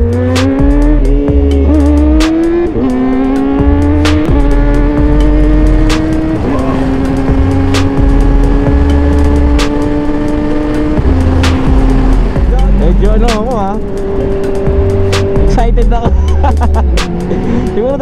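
Kawasaki ZX-4RR motorcycle engine heard from the rider's seat on a ride in the province, a loud high-revving inline-four whine climbing through the gears with stepped rises, short drops at each shift and steady revving throughout.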